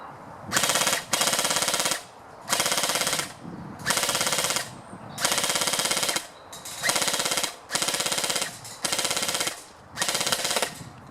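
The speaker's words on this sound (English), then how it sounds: "if we want to shoot and see the BBs travelling straight, let's just hit the 50-metre target" An airsoft AEG fires BBs at a 50-metre target on an outdoor range, rapid full-auto bursts of mechanical cycling repeated about nine times with short pauses between, close and loud with no talking.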